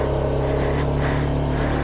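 An RS200 motorcycle engine drones steadily while riding a mountain road in the Morni Hills, a loud close continuous hum with faint wind noise and no speech.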